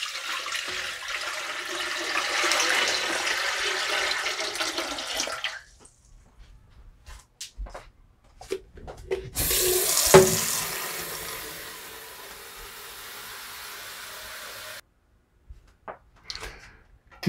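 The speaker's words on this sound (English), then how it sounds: "go ahead and start filling your pot up" Tap water pouring into a cooking pot used for pasteurizing wine, a steady hissing stream for several seconds, then pauses with scattered splashes and clinks, a second strong gush, and a quieter continuing flow.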